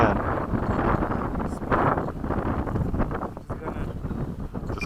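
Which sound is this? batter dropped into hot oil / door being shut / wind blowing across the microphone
wind blowing across the microphone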